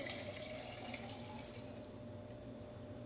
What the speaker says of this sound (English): just pour the water over top